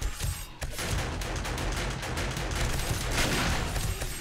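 Sustained rapid gunfire in 7 Days to Die, a dense stream of shots mixed with the clatter of automated turrets, loud and continuous with no talk.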